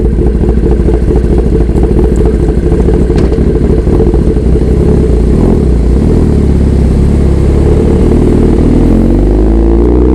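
A Kawasaki ZX10R motorcycle engine rumbles loudly and close, with uneven clattering revs at first, then pulls away as its low growl shifts and changes pitch toward the end.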